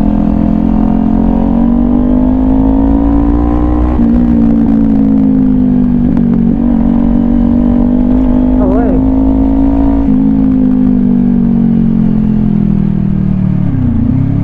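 Kawasaki Ninja 400 motorcycle on a late-night ride home, its engine droning loudly and steadily with rpm dips and rises at several gear shifts, heard up close with wind noise.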